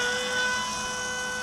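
Electric motor of an MIA EZ Gyro 1.25 RC autogyro running at full throttle, a steady high-pitched whine with a constant tonal drone that holds level and close throughout.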